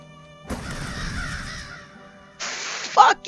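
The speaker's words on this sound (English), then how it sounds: "Stupid stinking crows!" In the video game The Last Door, crows caw in short harsh bursts near the end, after a rushing noise that fades out, set over a low humming ambience.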